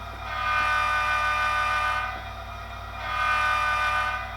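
A model diesel locomotive with a Tsunami sound decoder rumbles with a deep engine drone while a horn sounds in two long blasts, reproduced loud and full through a large speaker.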